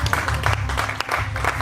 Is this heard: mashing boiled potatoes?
no